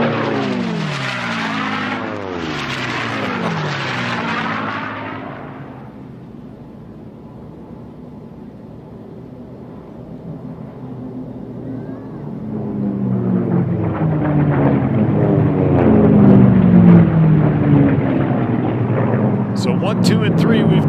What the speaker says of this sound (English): here's the race 3 Bardall Special demonstrating it coming right down the Valley of Speed here, Tommy.